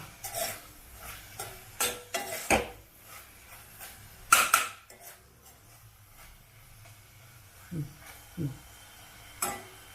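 Horse gram palya being mixed with grated coconut in a pan, North Karnataka style: a series of short scraping stirs and clacks of a spoon against the pan, some louder than others, with no talking.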